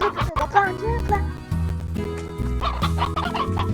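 Chickens clucking in the video game Slime Rancher, a steady run of close, loud clucks layered over game music and sound effects.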